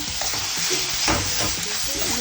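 Spices with cumin powder, ginger-garlic paste and green chilli fry and sizzle in hot oil for chole, a steady close sizzle with stirring scrapes throughout, no talking.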